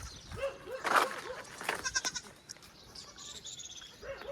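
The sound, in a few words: goats bleating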